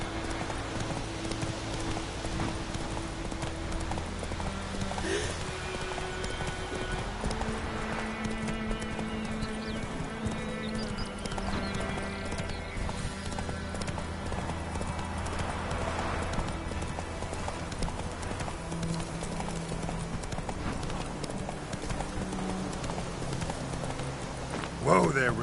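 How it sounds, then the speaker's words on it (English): Horse hooves clip-clopping at a steady pace in The Witcher video game, continuous across the scene and mixed with game music and ambient sound. "Whoa there, Roach."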